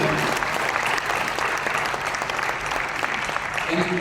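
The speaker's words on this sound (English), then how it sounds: "A big round of applause for them." A room of people gives a steady, full round of applause for contributors to a national AI strategy plan, with dense continuous clapping throughout and faint voices underneath.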